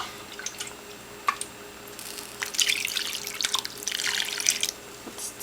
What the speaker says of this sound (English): And I am going to add some more water.